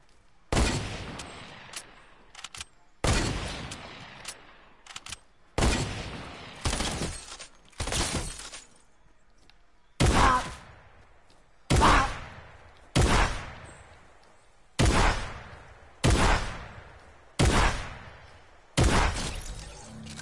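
Hunter rifle shots in a video game ring out one at a time, about a dozen sharp, loud cracks spaced a second or two apart, each with a fading tail, with no talking.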